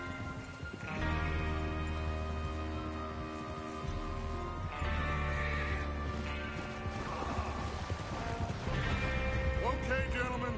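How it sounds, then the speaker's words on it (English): Horses whinny and neigh several times amid clip-clopping hooves in the Red Dead Redemption 2 video game, with layered game sound around them. "Get your horses ready."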